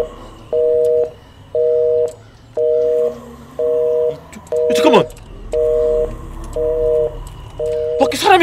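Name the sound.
telephone ringing sound in a video game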